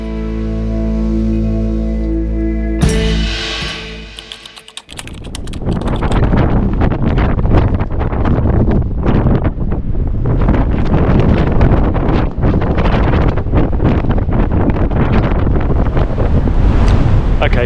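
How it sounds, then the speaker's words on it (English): Strong wind buffets a microphone on the South West Coast Path in North Cornwall, a loud continuous roar with a brief lull before gusts surge back and keep pounding steadily. "Feeling that wind, I couldn't keep my camera still."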